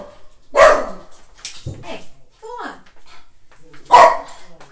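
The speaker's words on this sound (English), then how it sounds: "He scares me half to death when he barks like that" A dog barks loudly and close by in two sharp bursts, one early and one later, with someone talking in between.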